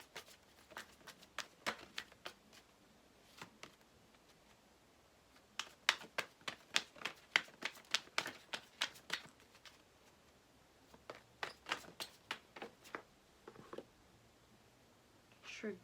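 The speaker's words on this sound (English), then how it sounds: "I'm pulling a crystal card for you now." Crystal oracle cards being shuffled and pulled: faint, quick, dry clicks and taps in irregular clusters against a quiet background.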